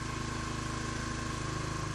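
A steady four-stroke engine fitted with a plasma circuit idles with a smooth, even rumble, continuous and unchanging for the whole stretch.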